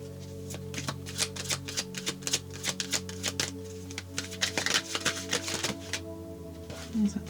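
Cards being shuffled and laid down, a run of quick papery flicks and taps, close up, with a low hum underneath.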